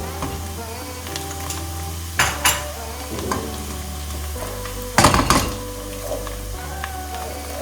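Onions already well browned sizzle in a pan with a spoonful of tomato paste and half a pepper for a mung bean stew, a steady fry broken by a few louder stirring scrapes and clatters.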